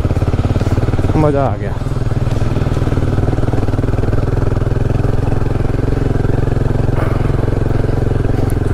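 A Royal Enfield Himalayan 450 motorcycle rumbles steadily at close range with a strong low engine drone while being ridden on a mountain route, and the rider briefly speaks over it.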